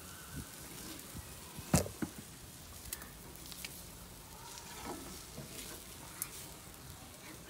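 Eggs frying over a charcoal barbecue grill at breakfast, a faint steady sizzle with a few soft pops and clinks, quiet and close with no talk.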